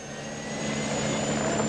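A Norwegian ambulance helicopter from 1984 gives off a steady, fairly loud engine and rotor drone that holds constant and swells slightly.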